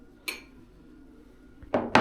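A metal spoon clinks against a bowl a few times while scooping starch, short sharp taps, close by with quiet pauses between.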